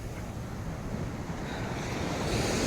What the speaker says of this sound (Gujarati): એ મને પલાળી દીધો એવા તો મોજા છે